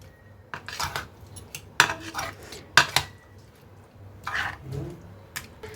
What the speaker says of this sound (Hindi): सारी चीज़ों को हम मछली में अच्छे से कोट कर देंगे इस तरीके से।